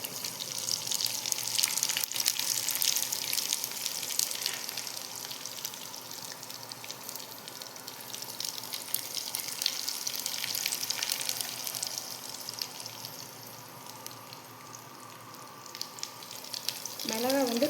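Onion and green chilli frying in a pan for mango rice, a steady close hiss and crackle running throughout, with a brief voice at the very end.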